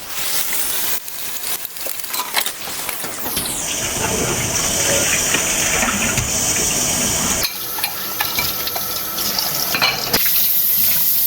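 Tap water runs steadily into a kitchen sink while dishes are washed, a close, continuous rushing splash that changes tone partway through as the flow or vessel shifts.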